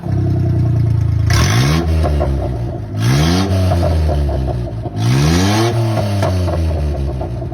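A car with a remote-controlled vacuum exhaust valve switched open revs hard three times, each loud, close blip climbing in pitch before dropping back to a rumbling idle between bursts.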